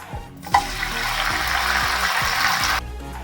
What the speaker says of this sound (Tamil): அடையை வந்து இந்த கீல போட்டு ஃப்ரை பண்ணி எடுத்துடலாம்